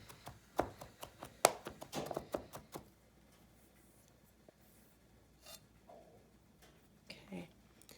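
Ginger for a salmon sauce is chopped or grated with quick, close, sharp taps in an uneven rhythm that then thins out to sparse scrapes and faint knocks.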